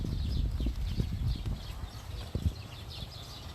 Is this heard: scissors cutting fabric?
no